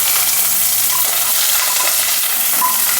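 Green chilies and curry leaves fry in hot oil for a banana-stem poriyal, giving a loud, steady sizzle and crackle throughout with no voices.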